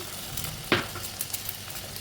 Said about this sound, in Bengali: এইভাবে টমেটোটা একটু ভাজা ভাজা হয়ে গেলে একটু সাইড করে মশলাগুলোকে একটু সাইড করে দিয়ে দিব